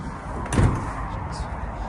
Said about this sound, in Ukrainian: Тут у нас всі двері відкриваються, фіксуються.